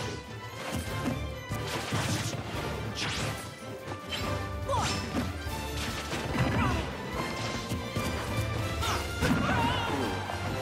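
Super Smash Bros. Ultimate fight with Palutena against Jigglypuff and Pit, loud smash-attack hits crashing and thwacking in quick succession amid swooshes and busy game sounds.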